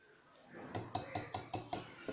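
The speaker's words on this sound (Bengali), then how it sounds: "আরও নেড়ে নেব আমরা।" Whisk or spoon tapping a bowl while pancake batter with flour is stirred, six sharp clinks in a steady rhythm, close and fairly quiet.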